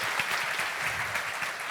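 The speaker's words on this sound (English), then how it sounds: "Big round of applause, please, for Sofia and Vivi." Audience at a security conference applauding two speakers after their talk; a dense, even burst of many hands clapping, steady and moderately loud.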